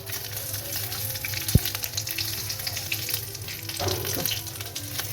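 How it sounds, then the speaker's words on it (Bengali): Whole cumin seeds and dried red chillies crackle in hot oil as a tempering for moong dal with bitter gourd and bottle gourd, a continuous near sizzle with one sharp knock and a brief surge of spitting; no one speaks. "এই তেলটাতেই আমি এবার এই গোটা জিরে আর শুকনো লঙ্কাটা ফোড়ন দিয়ে দিচ্ছি"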